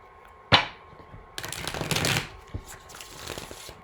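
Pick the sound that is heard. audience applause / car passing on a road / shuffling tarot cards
shuffling tarot cards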